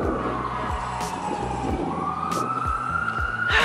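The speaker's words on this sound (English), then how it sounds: "Listen to all the ambulances." Emergency vehicle sirens wail through a snowstorm in Memphis, Tennessee, a steady rising and falling tone over constant traffic and wind noise, fairly close and loud.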